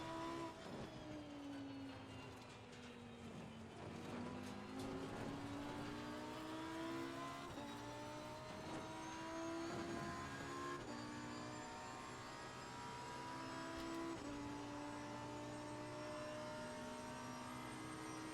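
A race car engine in Assetto Corsa Competizione accelerating out of the pit lane, its steady tonal drone climbing in pitch through upshifts, heard alone and continuous.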